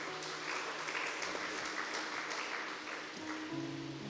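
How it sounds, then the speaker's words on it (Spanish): A church congregation gives a strong round of applause for the Lord: steady, dense clapping that fills the whole stretch at a moderate level, with faint sustained music tones underneath. "Dale otro fuerte aplauso al Señor"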